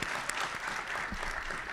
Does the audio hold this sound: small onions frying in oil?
no